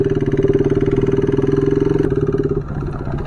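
A motorcycle engine runs close by with a steady rapid pulsing thump, then drops to a softer idle near the end; the engine needed a cylinder replacement.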